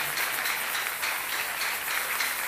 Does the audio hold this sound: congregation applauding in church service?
yes